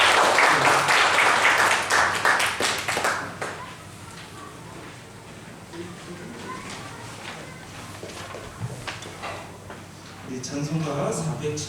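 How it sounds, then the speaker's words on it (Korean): A church congregation bursts into loud applause for about three seconds, then it dies away into quieter room sounds and speech, with another swell of voices near the end. "큰 박수로 이렇게 환영해드리겠습니다."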